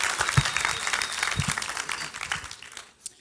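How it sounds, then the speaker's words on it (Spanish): Church congregation applauding visitors, a dense burst of clapping from many hands that fades out over about three seconds. "Un aplauso para los visitantes"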